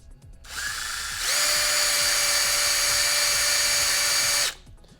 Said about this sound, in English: I already drilled this one out earlier just to make sure everything was going to work fine. So let's go ahead and do the other three